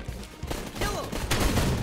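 Gunfire and rocket blasts in a fast first-person shooter video game, with loud, dense bursts of shots and explosions packed into under two seconds.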